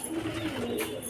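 Kashmiri pigeon at a Bhopal market pigeon show, cooing softly and continuously through a short stretch with faint chirps and crowd noise in the background.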